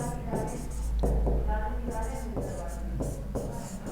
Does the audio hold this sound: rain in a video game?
no